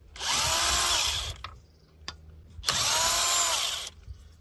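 A power tool with a socket runs in two short bursts of a high whirring rattle, loosening the wheel nuts of a SEAT Ibiza 6J MK4, with a brief tap and quiet pause between them.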